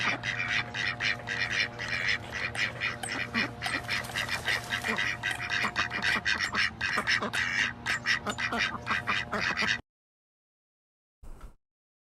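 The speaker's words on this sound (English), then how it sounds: "Just some ducks yapping." A flock of ducks quacking loudly and continuously in a dense, overlapping chatter, close by, ending abruptly and followed by a brief burst of noise after a pause.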